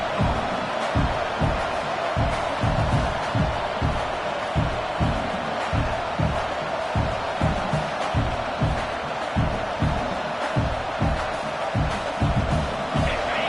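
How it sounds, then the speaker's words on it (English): Home crowd in a college football video game roars steadily in the stadium, a dense wash of cheering with rhythmic thumping underneath, continuous and loud throughout. "this home crowd is fired up and ready to make a difference today"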